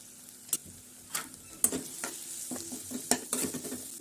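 A spice tempering with tomato, turmeric and red chili powder is stir-fried in a pan for a dry sandga curry. Repeated spatula strokes scrape and clatter over a steady close sizzle, with no talking.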